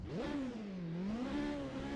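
A petrol race car engine in Assetto Corsa idles at a raised 2,600 rpm, giving a steady, loud, close drone with a gently wavering pitch and no voices.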